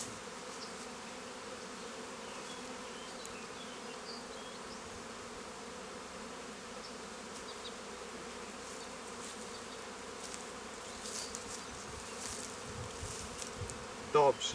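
Honey bees swarming around an opened beehive during a colony merge, a steady close buzzing hum that continues throughout, with a short spoken word near the end.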